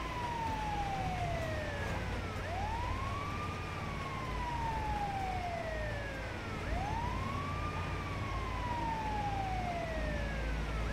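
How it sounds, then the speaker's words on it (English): Ambulance sirens in a GTA Online doomsday heist video game wail in repeated rising and falling sweeps, layered with a second siren tone over a low vehicle rumble, continuous and fairly loud with no speech. "Can you turn off the sirens?"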